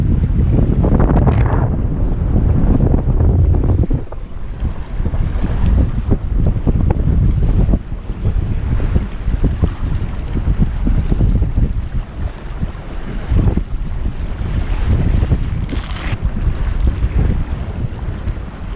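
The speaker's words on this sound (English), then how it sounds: "Enjoying a bit of upwind sailing." A sailboat beats upwind off the English coast between Lowestoft and Wells-next-the-sea, with steady loud wind buffeting the microphone and waves washing and slapping against the hull throughout.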